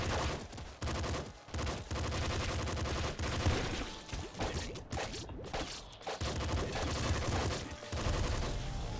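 SMG fire in the top-down shooter Nuclear Throne, dense rapid bursts of game gunfire layered over loud music and effects, with short gaps between volleys.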